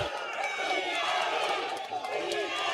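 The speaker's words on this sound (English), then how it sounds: "the crowd's getting into here" A dense crowd roars continuously at a live MMA fight event, a sustained wall of cheering and shouting with indistinct voices mixed in.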